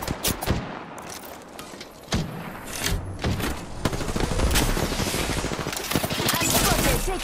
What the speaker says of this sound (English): I'm spotted, taking fire.